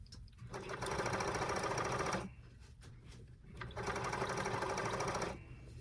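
A blind stitch sewing machine hems sheer drapes in two loud, steady bursts of rapid mechanical stitching with a brief pause between them.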